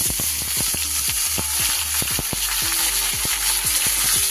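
Ridge gourd and potatoes fry in a pan with a continuous loud sizzle, while a spatula scrapes and stirs in quick repeated strokes close by, with no talking.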